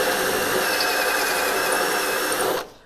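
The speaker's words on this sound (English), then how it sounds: "and all you need to do is just drill through." A power drill bores through a spot weld in car body sheet metal while a damaged rear tail panel is being removed, a steady, loud, high grinding whine lasting several seconds and then cutting off abruptly.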